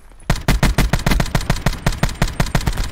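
Loud, close automatic gunfire in Call of Duty Blackout fires about fifteen evenly spaced heavy shots in a steady rhythm after a brief quiet start.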